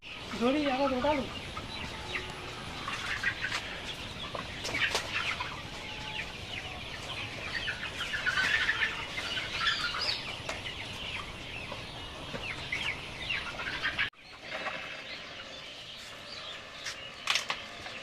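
Caged chickens on a farm cluck and squawk continuously at close range, a busy, overlapping flock sound with human talk mixed in and a brief drop near the end.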